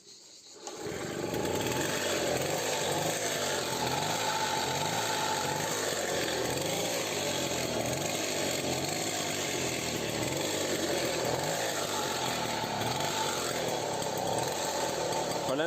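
A Motobécane AV85 moped engine idles after a direct-wiring hookup, a close, loud, buzzy two-stroke drone with small, uneven stumbles in its rhythm that runs steadily for about fifteen seconds after starting up.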